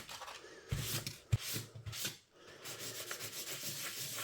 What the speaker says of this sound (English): I'm just coming in with a dry tissue and I'm going to rub it all across there.